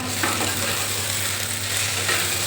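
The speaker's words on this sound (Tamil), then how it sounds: "அவரைக்காய் வந்து இந்த எண்ணெயிலே நல்லா வதங்கணும்" Broad beans sauté in oil for a spicy kara kuzhambu. A close, even sizzle runs over a low steady hum, with a few soft stirring scrapes.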